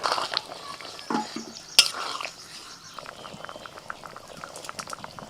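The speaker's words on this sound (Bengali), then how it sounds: "ঢ্যাঁড়স দিয়ে দিচ্ছি।" Okra tipped into a pot of simmering potato curry, giving a soft clatter and a brief metallic clink, then gentle bubbling and light stirring noises close by.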